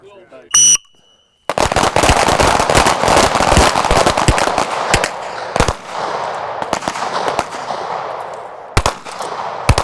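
Pistol gunfire crackles during fast pistol training drills on an outdoor range, dense rapid shots in close succession after a brief beep, thinning toward the end, with voices heard among the reports.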